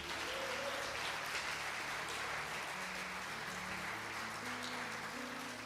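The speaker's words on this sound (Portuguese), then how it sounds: "Você pode dar um forte aplauso à nossa família RN." A church congregation applauds during a Thursday evening service, a steady wash of clapping that fills the room for several seconds, with sustained musical tones faintly underneath.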